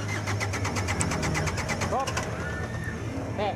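A Mitsubishi Canter diesel truck engine cranks on its starter, struggling to catch after running out of fuel, with a steady rhythmic churn close by and faint bird calls in the background.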